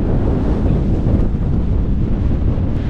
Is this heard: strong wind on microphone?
yes